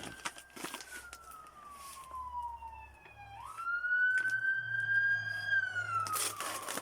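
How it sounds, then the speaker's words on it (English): Police sirens wail at moderate distance, pitch sliding down then rising again as the vehicles pass by, with no voices. "There's a lot of sirens going by."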